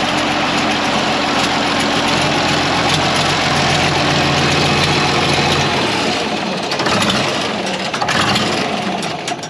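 A Farmall 706 Hi-Clear tractor engine idles loudly and close with a steady, rough diesel rumble. The low throb drops away near the end while the broadband engine noise continues.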